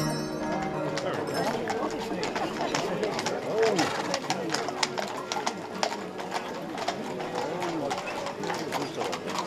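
Steady clip-clop of horses' hooves on pavement under background chatter at an animal blessing pilgrimage, with birds cooing nearby and people talking throughout.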